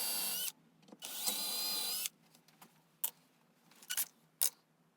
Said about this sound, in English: Take my jig and I place the jig on that 3-inch flat and drill 2 holes.